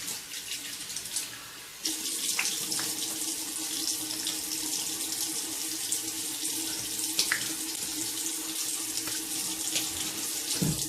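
Tap water runs steadily from a faucet, splashing as alum is rinsed off a freshly shaved head; the flow grows louder after a brief quieter start and continues alone with a few small splashes.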